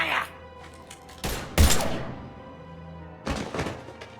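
Gunfire erupts in a firefight in the video game Mass Effect 3: a few heavy, booming shots and thuds, one loud burst in the middle and another later, with faint voices and background score between them.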